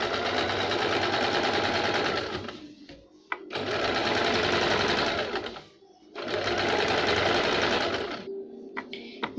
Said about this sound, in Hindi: ऐसे एक सिलाई लगाएंगे।